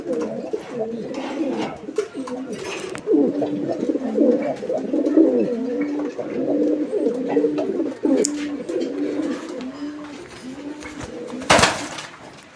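Several large Gopalganj pigeons coo continuously nearby in low, rolling, repeated phrases, with a brief sharp clatter near the end.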